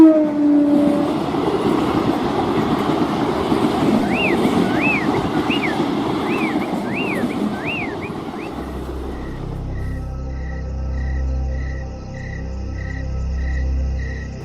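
The Jnaneswari Express rolls along with a continuous rumble, a wavering horn-like whine rising and falling midway, then the rhythmic clickety-clack of wheels over rail joints taking over near the end; no voices.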